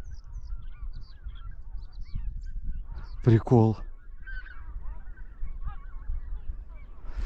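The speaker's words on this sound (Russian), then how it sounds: "Гусь прям на них заходит." Geese honk in a short burst during a goose hunt on a vast flock gathering ground, the calls rising loud over steady wind rumble before fading, with a single word spoken briefly.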